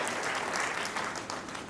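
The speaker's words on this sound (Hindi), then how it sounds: "अच्छा लग रहा है तो एक बार तालियां भाई।" Audience at a Hindi comic poetry gathering gives a brief burst of dense, steady applause, close and continuous for under two seconds.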